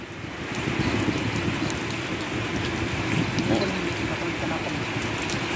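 Steady rain falls on a fishing raft at a lagoon in Perling, Johor Bahru, making a dense, continuous hiss that lasts throughout without pause.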